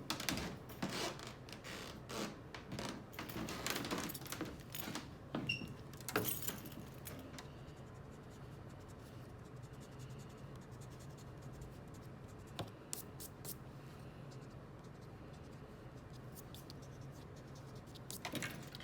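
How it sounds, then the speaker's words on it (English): A pencil eraser rubbing over paper to clear leftover pencil marks from a crayon drawing, quiet irregular scratchy strokes in bursts, busier at first, then sparser with longer pauses, close and faint with no voices. "take your pencil and just erase any little pencil marks that are left over"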